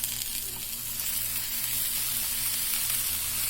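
Tomato pieces and green chillies frying in a pan for a curry paste, a steady close sizzle with a faint low hum underneath and no speech.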